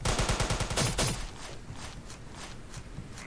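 Rapid machine-gun fire in a video game, loud, close bursts at first that thin into scattered, spaced shots with the rattle continuing faintly.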